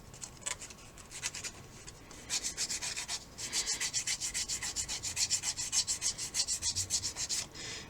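Sandpaper scuffs across a shiny model rocket part on an Estes Magician build, starting as light intermittent rubbing and then settling into a steady, close, rhythmic back-and-forth sanding stroke.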